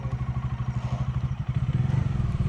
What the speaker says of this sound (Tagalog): Papark daw natin ng maayos tong motor